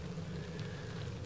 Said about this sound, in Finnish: Nyt rupes näköjään vähän sataamaan.